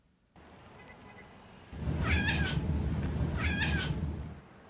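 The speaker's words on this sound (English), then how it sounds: "Kitty, kitty, huh? It's a nice kitty." A cat meows twice, clear and fairly close, over a steady low background hum with no talking.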